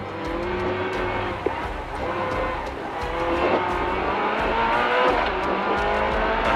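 Several Nissan Micra race cars hammer around Bishopscourt Circuit, a steady loud roar of revving engines with overlapping passes and faint tyre noise, no voices.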